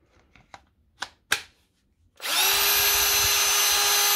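A Milwaukee M18 cordless drill with a repaired battery: a few handling clicks and knocks, then the motor starts and runs with a loud, steady whine close by until the end.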